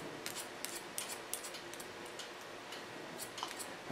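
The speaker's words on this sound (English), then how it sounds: "On the center line I continue the straight cutting up." Scissors snip hair during a platinum blond pixie cut, a steady series of crisp close clicks in an uneven rhythm over quiet room hiss.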